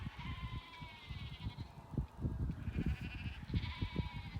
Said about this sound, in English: There's also the sheep up there.